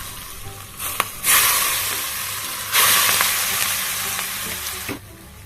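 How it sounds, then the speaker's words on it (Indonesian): Hot oil poured over sambal bajak, two loud bursts of sizzling hiss that flare up and then simmer down, close with no talk. "Kalau udah panas kita siramkan ke atas sambal bajaknya."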